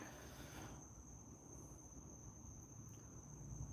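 Crickets chirp steadily at night, a constant high, thin trill sitting over a soft, broadband hiss, faint and continuous throughout.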